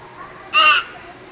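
A crow gives one loud, harsh caw nearby, standing out clearly against a quiet outdoor background.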